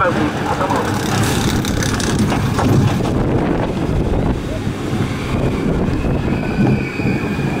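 Riding the front seat of the Raging Spirits roller coaster at Tokyo DisneySea in Japan: loud rushing wind buffets the microphone over rumbling track and train noise, steady and close throughout, with no clear talking.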